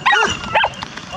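Romanian shepherd dogs at a sheepfold bark in a few sharp, close bursts, with a quieter yelp or whine trailing after.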